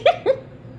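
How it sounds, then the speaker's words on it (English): Two quick hiccups close to the microphone, about a quarter second apart, each a short sharp voiced gulp followed by quiet room tone. "Hiccups."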